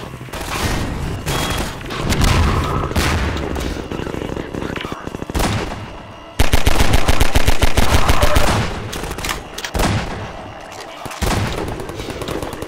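Rapid volleys of gunfire from the Half-Life 2 mod DefendVille, loud and close, in dense bursts with brief pauses and a sustained heavy stretch in the middle.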